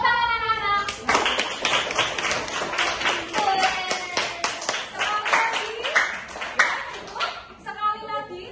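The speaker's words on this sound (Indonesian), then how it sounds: "Tepuk tangan anak-anak." Children clap their hands in a classroom in a quick, rhythmic burst of close, sharp claps lasting several seconds, with children's and an adult's voices heard before and after.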